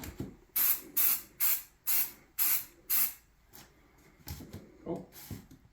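Six rhythmic bursts of aerosol primer spray hissing in quick succession, followed by quieter handling noises and a couple of softer short sprays.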